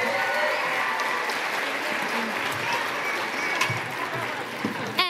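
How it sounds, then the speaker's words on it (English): Sustained audience applause for Franklin Elementary students after a robot-themed act at a school district spotlight performance, steady dense clapping that fills the hall with no pause, a few louder claps near the end. "One more round of applause for Franklin Elementary."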